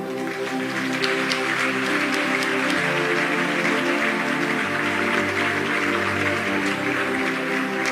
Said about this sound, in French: On acclame pour nos pasteurs.